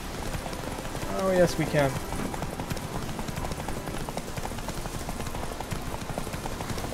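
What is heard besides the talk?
riding horse Roach in video game The Witcher 3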